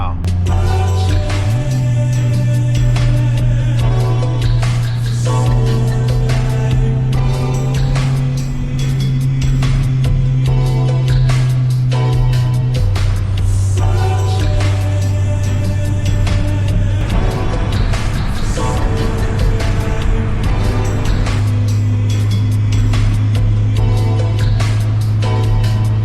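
Stock Honda Accord wagon with an F22 B1 engine driving along, a steady close engine drone inside the cabin that shifts pitch as it changes gears, with road noise throughout.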